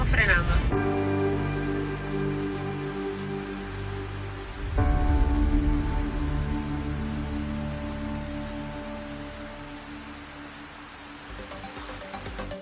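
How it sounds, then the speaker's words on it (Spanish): Light rain falls on a busy road in Gran Canaria, a steady wet hiss of drizzle and tyre spray with traffic rumbling past. A surge comes midway as a vehicle passes, and a low drone runs throughout. "Victorio, lloviendo, un pequeño chispeo en Gran Canaria y mucho tráfico."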